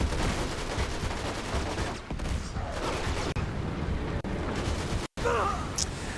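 Grenade explosions and gunfire from the video game Uncharted 3 form a dense, loud, continuous barrage of shots and blasts with only brief dropouts.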